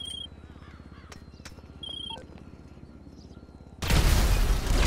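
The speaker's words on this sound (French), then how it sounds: "Première grenade, il a explosé." A grenade blows up a Mule Custom truck in GTA 5, one sudden loud, broad explosion after a calmer stretch of crow caws and ambient game sounds.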